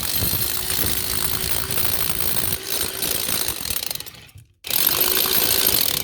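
A power drill with a big long bit grinds steadily into a wall while a curtain rail is put up, cutting out briefly before starting again at full strength, close and loud with no talking.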